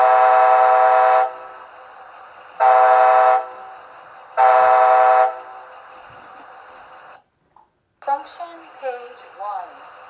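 Sound effects from a Bachmann HO-scale Amtrak ALC-42 Charger 50th anniversary model locomotive: three loud, sustained horn blasts in a steady rhythm over an idling engine hum, then a brief silence and softer squeals and mechanical noises.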